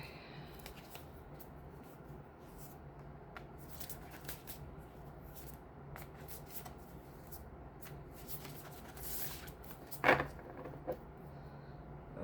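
Decks of oracle cards being shuffled: soft, repeated riffling and rustling strokes at close range, fairly quiet, with a few sharper handling taps, no speech.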